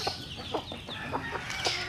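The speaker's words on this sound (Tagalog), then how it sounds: "Ito yung ating mga manok." Chickens cluck in short, scattered bursts over a soft outdoor background, fairly close and moderately quiet.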